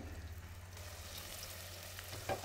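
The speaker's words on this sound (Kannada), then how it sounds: "ಚೆನ್ನಾಗಿ ಫ್ರೈ ಮಾಡಿಕೊಂಡು ರುಬ್ಬಿರುವಂಥ ಮಸಾಲೆನ ಹಾಕ್ಕೊಂಡು ಫ್ರೈ ಮಾಡ್ಕೋಬೇಕು" Ground masala frying in hot oil for a dry fish and vegetable curry, a steady soft sizzle throughout with a faint stir or clink near the end, no voices.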